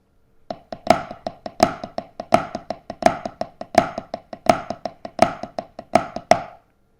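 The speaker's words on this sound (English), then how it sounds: "my kind of modified flam tap train beat" Snare drum played with sticks in a modified flam tap train beat, grace notes before accented main strokes in a steady repeating pattern, crisp and close with no talking.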